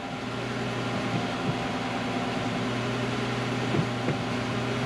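A 2011 Toyota Sienna engine idles in a steady, close, even hum with a few faint ticks while the brake pedal is pumped.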